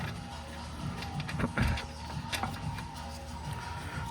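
A ratchet clicks in short, quiet bursts while tightening a nut during a coilover install on an NA Miata, close but faint over background hum.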